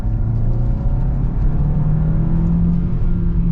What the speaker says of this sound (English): then we'll get our acceleration